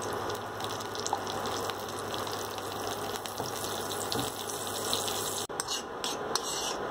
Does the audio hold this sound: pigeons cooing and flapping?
no